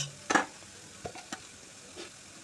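Food deep-frying in a pan of oil for masala pasta, a faint sizzle with a few soft stirring scrapes and clinks, close by and quiet, with no talk.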